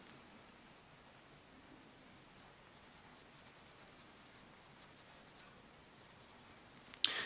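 A sharp graphite pencil shades and blends feather detail on paper in a bird drawing, a soft, steady scratching rustle throughout, faint and close, ending in a brief louder tap.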